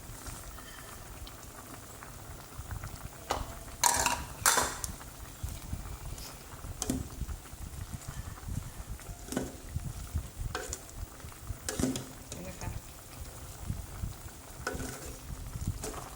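Chicken and young wax gourd curry simmering in a pot, a continuous soft bubbling and crackle with scattered sharper clinks and pops, no talking.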